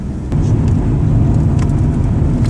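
Steady low rumble of a Volvo 740 estate car driving on a test drive, heard from inside the cabin, with continuous engine and road noise throughout and no talking.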